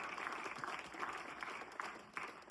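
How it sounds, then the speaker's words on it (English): Audience at a magic show clapping for a volunteer called up from the crowd, a quiet, distant round of applause that holds steady for a couple of seconds. "Big round of applause."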